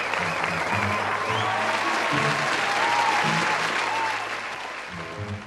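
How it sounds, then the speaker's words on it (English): An audience applauds a comedian in a sustained burst of clapping over a background of low musical tones, fading slightly toward the end. "Let's give him a round of applause."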